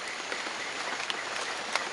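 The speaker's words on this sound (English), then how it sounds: "It's started to rain again." Steady rain pattering in the Guyana rainforest, an even hiss of drops with a few sharper taps on a thatched shelter, continuous and close with no talking.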